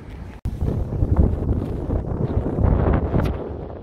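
Strong wind in Kaliningrad in April, at plus 8 degrees, buffets the microphone in a constant low roar, gusting throughout with a brief dropout near the start.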